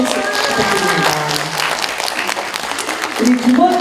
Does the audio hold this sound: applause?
yes